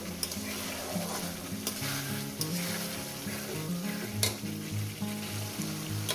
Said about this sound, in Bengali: আরো এক মিনিট কষাবো